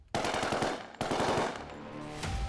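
Rapid automatic gunfire fired at unarmed civilians in Pakistan-occupied Kashmir: two dense bursts of sharp shots, close and loud, the second trailing off into echoing rumble.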